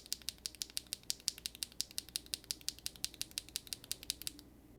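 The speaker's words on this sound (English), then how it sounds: "they sounded actually decently clacky" Gateron Jade Attraction Hall effect keyboard switches are typed at a fast, even rhythm. About two dozen crisp, clacky keystrokes ring out close and clear, with nothing else heard, before a brief quiet at the end.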